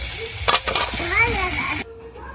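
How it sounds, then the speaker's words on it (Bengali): Sliced round potatoes fry in a home kitchen pan with a steady broadband sizzle and a few clinking stirs near the start; faint tonal sounds drift over it, then the sizzle cuts off abruptly to a quieter background. "এখানে আবার আলু ভাজা বসিয়ে দিয়েছি, চাকা করে আলু ভাজা করবো"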